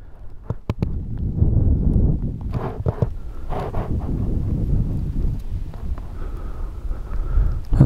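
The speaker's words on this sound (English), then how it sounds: "That was a violent gust of wind, maybe even a small twister or something" A violent gust of wind buffets the microphone outdoors at an F5J electric model glider championship flyoff in Trnava, a steady low rumbling roar with a few sharp thumps, with no voices.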